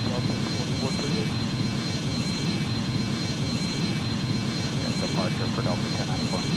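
A Boeing MD-90 jet departing Memphis International Airport gives a steady, continuous engine roar and rumble, heard together with radio voices from air traffic control.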